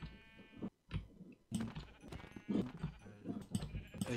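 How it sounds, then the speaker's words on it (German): Sheep in the Minecraft video game bleat several times in quick succession. The bleats are close and clear, with short gaps between them. "Hier sind sehr viele Schafe"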